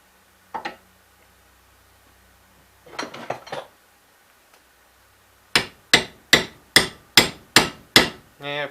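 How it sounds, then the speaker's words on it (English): A few scattered knocks, then a steady run of about eight sharp metallic hammer strikes in an even rhythm, close and loud, fitting a part onto a Gravely cart. "I could definitely hammer it on there"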